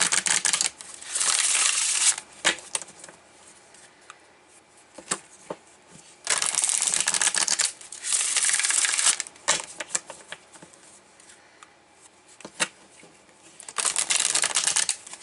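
Tarot cards are shuffled and drawn in repeated bursts of crisp riffling and flicking, loud and close, with quieter gaps of light card handling between them.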